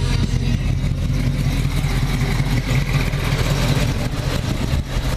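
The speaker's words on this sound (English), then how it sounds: "All right, with the engine idling here" A cold 1979 Pontiac Firebird Trans Am V8 idles steadily close by, a loud, continuous low rumble with no talking over it.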